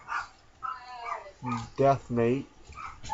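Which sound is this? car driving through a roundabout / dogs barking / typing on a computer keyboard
dogs barking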